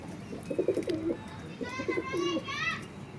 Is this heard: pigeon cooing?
yes